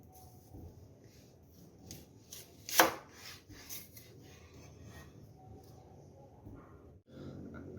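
A knife cutting open a celery stalk gives one sharp, crisp crack among quieter scraping and rubbing cuts, close up and fairly soft in a quiet room.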